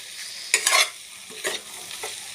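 Pork pieces fried in a pan for curry, stirred in a few quick scraping bursts over a quiet, faint sizzle.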